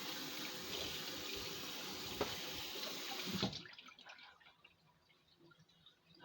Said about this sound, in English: So now I'm just going to rinse off the cutting board because I got a little bit of seeds on there.